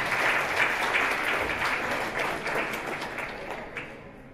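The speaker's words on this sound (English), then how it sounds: "Give a round of applause." An audience at a fan-convention quiz game show gives a round of applause to departing players, dense clapping that fades gradually toward the end.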